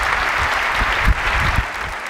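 A large keynote audience at Macworld San Francisco 2008 applauds, a dense steady wash of clapping that fills the hall, loud and continuous with a couple of brief louder swells.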